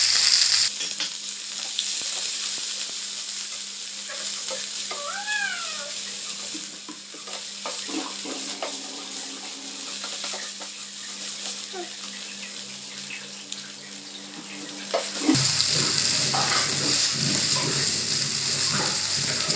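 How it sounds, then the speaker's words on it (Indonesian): Oil sizzles and crackles steadily as spices fry for a Balinese fish dish, with faint stirring and a few kitchen clinks; the sizzle briefly brightens near the end. "Minyak yang dipakai menumis kita sisihkan sedikit untuk menggoreng bumbunya."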